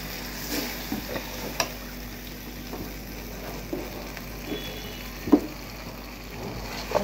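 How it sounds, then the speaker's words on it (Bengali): Fried potatoes are tipped into sizzling spice masala with green chillies in a pan, giving a steady close frying hiss broken by scattered soft clinks and stirring taps. "এখন আমি এর মধ্যে দিয়ে দেবো আলুগুলো।"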